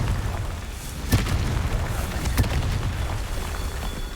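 Two sharp blasts from the Confringo fire spell in Hogwarts Legacy, a first burst near the one-second mark and a second a little over a second later, each set against a steady low rumble of ambient noise.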